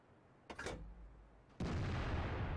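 Two heavy tank-cannon blasts in World of Tanks, likely from a G.W. Panther: a sharp boom with a short rumbling tail, then a second louder shot that settles into a sustained low roar.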